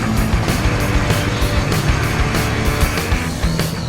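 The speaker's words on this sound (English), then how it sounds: "He took me for a spin in one of his Valkyrie MK1s across the beautiful vistas of Planet Calypso" A Valkyrie MK1 vehicle driving across Planet Calypso in a video game: a loud, steady engine drone with rhythmic pulsing, continuous and close throughout.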